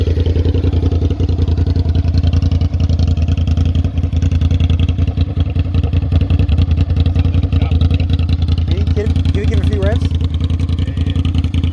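A Suzuki SV650 motorcycle idles loudly and steadily with a deep, continuous exhaust rumble close by, while a person talks over it.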